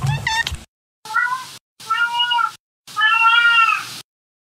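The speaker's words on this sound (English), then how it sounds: "sometimes my cat Winston joins me." A pet cat meows four times indoors, loud and close: a short first call, then three drawn-out meows separated by brief silences, each a little longer than the last.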